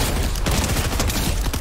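Heavy sniper rifle in a video game fires in dense, loud, overlapping blasts, a sustained burst of booming gunfire with no talk.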